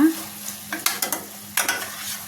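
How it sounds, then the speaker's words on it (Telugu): Mutton keema frying in a pan, with a steady low sizzle broken by several sharp scraping stir strokes of a spoon against the metal, close and clear with no talking. "మధ్య మధ్యలో కలుపుకుంటా ఫ్రై చేసుకుందాం"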